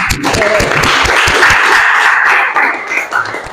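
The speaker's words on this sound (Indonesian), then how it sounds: "Beri tepuk tangan buat kita semua" A class of students applauds after group presentations in a sociology lesson, a burst of quick clapping from a room of people that fills the room, then thins out with a few voices toward the end.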